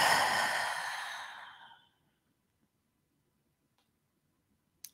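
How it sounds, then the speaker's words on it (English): A long, slow exhale during guided breathing meditation, breath blown out audibly and fading away over about two seconds, then near silence with a faint tick at the end. "on the exhale, blowing it out"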